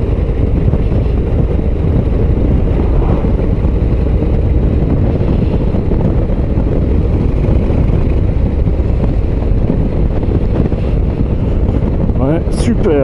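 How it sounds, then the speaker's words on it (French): A Harley-Davidson Street Glide ST rides along an open road, its heavy engine drone steady and loud beneath constant wind buffeting on the microphone, continuous for the whole stretch. "je préfère le moteur de la Harley."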